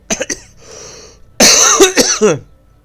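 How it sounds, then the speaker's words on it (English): A few short coughs, then a quiet breathy pause, followed by a louder burst of harsh throat-clearing coughs, close up and alone. "excuse me, I'm about to cough"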